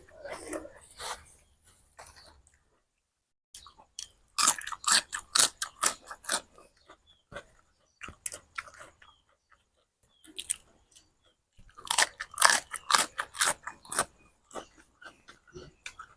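Spicy stink bean salad with fresh shrimp being eaten up close, with bursts of crisp crunchy chewing separated by quiet pauses and soft murmurs.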